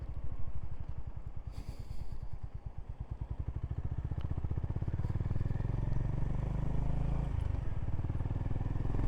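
A Honda GB350 motorcycle rides along, its single-cylinder engine thumping in a steady, throaty pulse that rises in pitch as it pulls through the gears, loud and close throughout.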